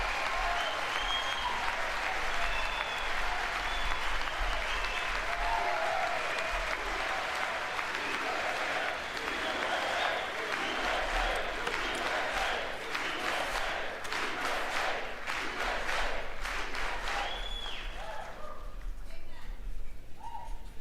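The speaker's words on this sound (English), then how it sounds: "big cheer, big cheer" Sustained applause and cheering from a large audience in the chamber of the US Congress during a presidential address, a loud, dense wall of clapping with shouts mixed in that continues throughout.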